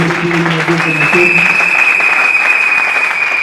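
Congregation applauding in a church during a wedding service, a dense steady wash of clapping from many hands that fills the space, with a sustained tone running beneath it.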